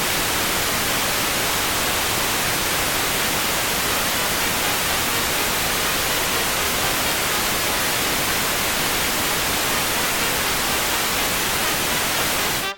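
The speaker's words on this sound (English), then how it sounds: "I'm gonna bring up the pink noise and I'm gonna bring that track up" A pink noise test signal plays in FL Studio, a steady, unbroken hiss at constant level that cuts off abruptly at the end.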